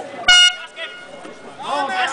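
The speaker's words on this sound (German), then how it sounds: "Wenn die Hupe ertönt, geht's los" Short loud horn blast marking the start of a children's pedal tractor race, followed by excited voices and cheering from a crowd nearby.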